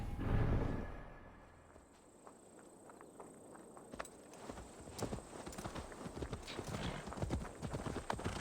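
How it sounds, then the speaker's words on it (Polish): Horse hooves in the video game Assassin's Creed Valhalla, a faint clip-clop of a horse walking up and arriving, soft irregular steps over quiet ambience. "Przyjechał mu koń."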